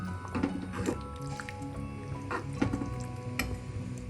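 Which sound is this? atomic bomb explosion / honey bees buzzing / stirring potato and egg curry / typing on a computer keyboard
stirring potato and egg curry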